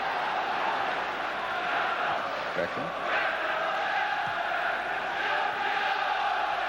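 Football stadium crowd at a Manchester United versus Fenerbahce Champions League match, 1996, roaring in a steady dense wash throughout, with a commentator speaking over it.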